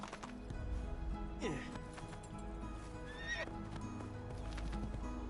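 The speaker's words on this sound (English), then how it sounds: "Gallop, horse, gallop." Horse hooves clip-clop at a gallop and a horse whinnies loudly in Assassin's Creed 2, set against steady game music and ambient background, with a voice occasionally talking over it.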